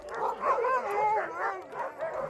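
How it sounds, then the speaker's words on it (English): Several excited sled dogs bark and yip in close, overlapping bursts in a snowy Arctic setting near Tromsø, Norway, a continuous clamour with no pauses. "They started barking, jumping, and running around everywhere."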